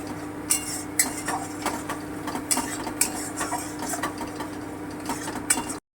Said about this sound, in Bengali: একটু লবণ দিয়ে দিলাম আমি একটু নেড়ে নিচ্ছি